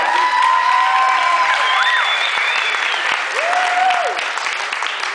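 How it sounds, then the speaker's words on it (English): Wedding guests applaud the bride during a maid of honor toast, sustained clapping mixed with cheers and whoops, with bright whistled or sung tones rising over the crowd. "Let's give her a round of applause"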